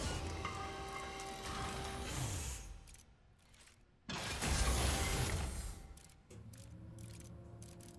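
A washing machine running in the video game Aperture Desk Job, clanking and whirring mechanical bursts that stop for a moment and then start again, loud and close with no talk.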